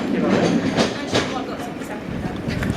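A model railway train, the British Pullman Belmont set, runs with a steady rumbling clatter and light rhythmic clicks of the wheels, heard close under a voice.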